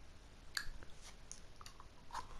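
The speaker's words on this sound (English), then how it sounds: "Just chewing on a Coca-Cola string" Close, soft chewing on a Coca-Cola candy string, wet clicks and sticky squelches coming in an irregular rhythm over faint background hiss, with no talking.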